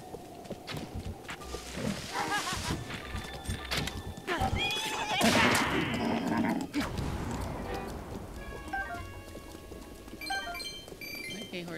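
A horse in Zelda: Breath of the Wild neighs loudly midway through, amid hoofbeats, rustling game ambience and chiming interface sounds, with a voice speaking briefly near the start.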